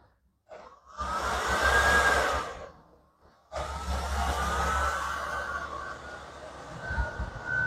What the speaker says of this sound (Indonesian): Oke, saya nyalakan vakumnya.